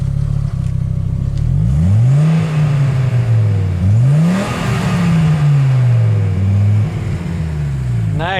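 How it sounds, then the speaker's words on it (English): A 1995 Audi Ur S6's inline-five engine revs while driving, its loud, warbling note rising and falling through several pulls and gear changes, heard from inside the car. "Nice sound. Unique sound for the i5."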